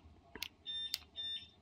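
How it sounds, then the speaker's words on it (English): Short electronic beeps from a wireless jammer sending a signal, two brief chirps and a couple of sustained high tones in quick succession, fairly faint over a quiet background. "you can hear that the signal is sent"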